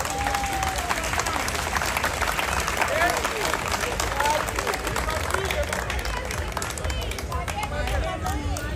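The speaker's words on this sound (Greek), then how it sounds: "τον Τζακνάκη και τον Αποστόλη τον Μπέκα, ένα δυνατό χειροκρότημα" A crowd at a SYRIZA political rally in Greece claps and cheers in a dense, sustained wave of applause that fills the whole stretch, loud and steady with faint crowd chatter mixed in.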